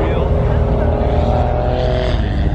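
A white 2,000-horsepower car's engine roars loud and close in a deep, steady, throaty drone, with voices talking faintly underneath.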